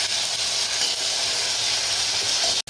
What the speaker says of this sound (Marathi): आलं लसणाची पेस्ट पण अशी आपण तेलामध्ये थोडी परतून घेणार आहोत